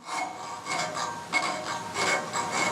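A rat tail file works burrs off metal in short, even forward strokes, about a half-dozen rhythmic rasping passes heard close up with no talking.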